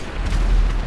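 A barrage missile explodes in the Great American Truck Adventures video game, making a loud, deep, rumbling boom that fills the whole short moment with heavy low-end roar.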